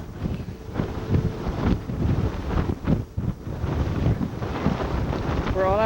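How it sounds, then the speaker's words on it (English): Strong wind gusting across the open deck of a cruise ship bound for Alaska in the evening, a steady loud roar buffeting the microphone with rumbling gusts throughout. "it's very, very windy"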